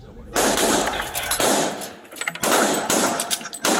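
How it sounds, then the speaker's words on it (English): Loud bursts of rapid gunfire ring out in several volleys, with brief pauses between them, in a police exchange of fire with a suspect. "Officers continue to tell the suspect to drop his gun before there is an exchange of gunfire."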